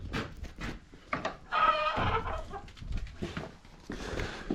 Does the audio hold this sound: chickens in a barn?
yes